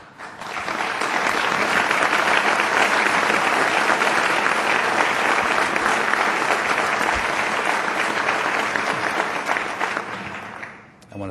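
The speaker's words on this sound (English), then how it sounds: "I want to thank my brother for starting that applause" Sustained audience applause at an Ontario Liberal political rally, a dense, loud wash of clapping from a large crowd lasting over ten seconds before tapering off.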